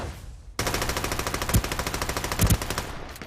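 Rapid automatic gunfire in an esports video game match, loud and close, with a sharp start and a continuous stream of shots that includes a couple of heavier bursts.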